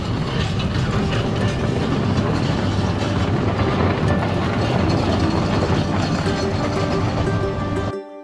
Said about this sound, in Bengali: টয় ট্রেনটি আমার অনেক সুন্দর লেগেছিল